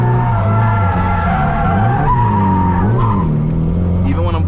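A drift car's tires squeal and skid through a clutch-kick slide, with the engine roaring loud and close throughout.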